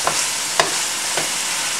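Meat frying on high heat, a loud, steady broadband hiss punctuated by three sharp scrapes or clicks from stirring, heard up close with no talking.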